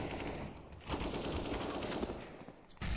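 Dense gunfire and explosive bursts from a Counter-Strike match, including a grenade, in a loud continuous barrage with a brief drop near the end.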